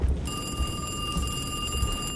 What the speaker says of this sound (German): Geh ans Telefon.